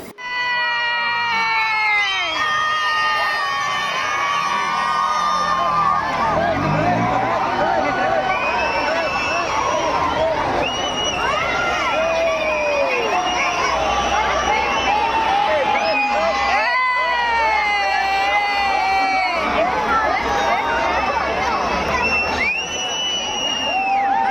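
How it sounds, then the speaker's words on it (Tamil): A crowd at a Christmas carol celebration in Thoothukudi shouts and screams together when the power goes out, a loud, continuous roar of many voices lasting throughout. "பவர் கட் ஆனவுடனே எல்லாருமே சத்தம் கொடுத்தாங்க."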